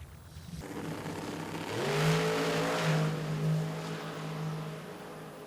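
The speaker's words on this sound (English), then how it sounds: "Side-by-side drag race." Drag race cars launching side by side at an NMRA/NMCA event in Chicago, a loud sustained engine roar rising sharply after a brief lower rumble and holding steady for several seconds.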